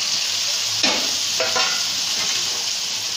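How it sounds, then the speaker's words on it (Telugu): Tomatoes hit a hot pan for tomato egg curry and set off a loud, steady hiss of frying, with a couple of brief clatters of stirring near the start, and no voices. "ఇప్పుడు ఇందులో టమాటా వేసేసుకోవాలి"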